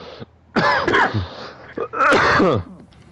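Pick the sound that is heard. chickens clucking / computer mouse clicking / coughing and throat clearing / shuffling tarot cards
coughing and throat clearing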